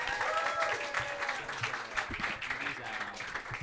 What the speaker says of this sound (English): Start clapping for your first fighter, Irina, Chelidze.